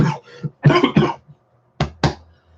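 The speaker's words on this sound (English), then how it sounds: "that coughing was actually after hysteria or a hysterical laughter" A person coughs right after hysterical laughter: a few harsh, close coughing bursts in uneven clusters, with short gaps and throaty breaths between them, and no speech.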